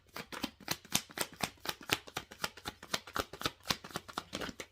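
Tarot cards being shuffled in steady, rapid riffles of crisp card slaps, close and fairly quiet with no voice.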